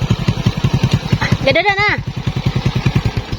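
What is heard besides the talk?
motorcycle engine running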